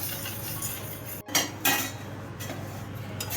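Dry roasting urad dal in a pan for murukku, a few scraping clinks of a utensil against the pan over a steady low background, close and moderately loud with no talking.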